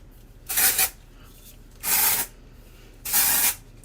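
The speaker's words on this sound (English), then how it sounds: "I literally just spray it on the roots, spray it on the front, spray it up here wherever." Three separate bursts of hair powder spray aimed at the hair roots, each a short hissing puff about half a second long with brief pauses between them, close and clear with no talking.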